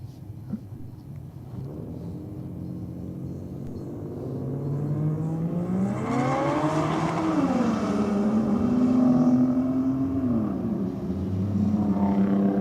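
A Ford Falcon and a CMV Performance Ute launch in a V8 versus inline-six drag race, engine roar building from a distant rumble into a loud rising rev that climbs and holds, then eases slightly.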